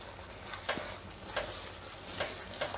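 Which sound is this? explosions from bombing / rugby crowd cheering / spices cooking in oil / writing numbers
spices cooking in oil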